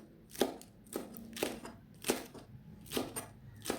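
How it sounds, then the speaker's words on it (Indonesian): Knife chopping through cabbage on a cutting board, six or seven crisp thuds at a steady, unhurried pace, close up with no talking. "Dipotong dulu bagian tengahnya yang keras itu. Setelah itu dipotong-potong."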